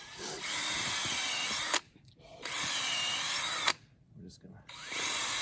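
A power drill bores a tap hole about 1.5 inches deep into a maple tree, whirring loudly in two long bursts with short pauses between them and a brief voice in a gap.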